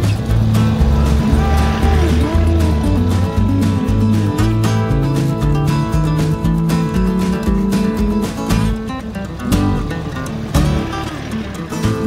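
A four-wheel drive vehicle drives over soft sand near Wreck Rock in Deepwater National Park, Central Queensland, a loud steady engine drone close by with shifting pitch as it labours along, no talking.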